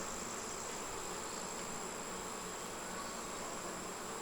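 Honeybees fan their wings on a hive frame during a nectar dearth, making a dense, steady, close buzz that holds evenly throughout without breaks.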